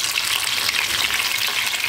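Eggplant and potato pieces deep-fry in hot oil as a dense, loud, unbroken sizzle with fine crackling, heard close up and alone.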